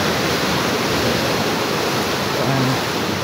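Ocean waves at a sea near the Pacific Ocean, a steady, loud broadband wash of surf that roars continuously with no breaks, heard alone without talk.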